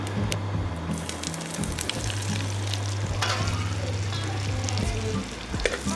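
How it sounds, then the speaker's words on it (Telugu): Onions and green chillies frying in hot oil for egg biryani: a loud, dense, continuous sizzle and crackle close up, with a low hum underneath and an occasional stir, no talking. "ఉల్లిగడ్డ వేసుకోవాలి అవి నూనెలో మొత్తం వేగుతున్నాయి"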